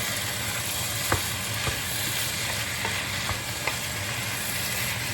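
Ground meat for a cheesy taco dip sizzles steadily in a pan as it cooks down, with a constant close hiss and a few faint clicks of stirring.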